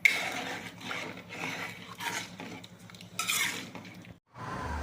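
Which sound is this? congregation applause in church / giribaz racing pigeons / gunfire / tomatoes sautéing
tomatoes sautéing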